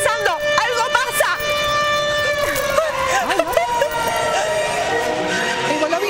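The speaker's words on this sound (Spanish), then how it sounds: "No sé qué es esa sirena." A wavering siren sounds through a busy street scene in a bustling setting, rising and falling over steady crowd noise and nearby voices, continuous for several seconds.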